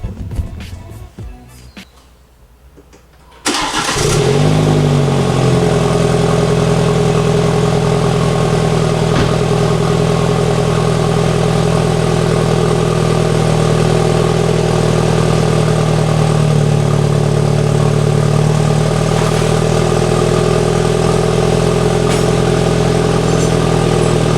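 A BMW F30 330i fitted with an OEM 340i dual exhaust sits quiet for a few seconds, then fires up on a warm start and settles into a loud, steady idle.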